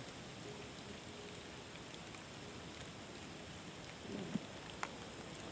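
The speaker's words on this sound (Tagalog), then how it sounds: "hindi na tayo pwede magtagal kasi lumalakas na yung ulan" Rain falls steadily at night around a ruined house, a soft, continuous distant patter with a few faint knocks near the end and no talking.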